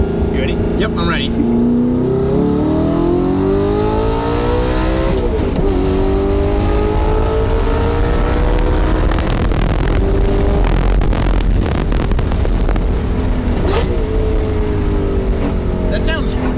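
An Audi R8 at full throttle sweeps up through repeated rising revs, loud and close from inside the cabin, with wind roar and brief chatter from occupants over it.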